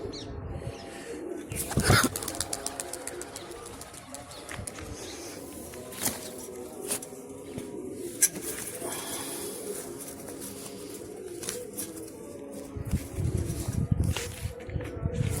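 Released pigeons coo softly and flap their wings outdoors, with scattered wingbeats and rustles, a louder flurry near the start, and occasional voices in the background.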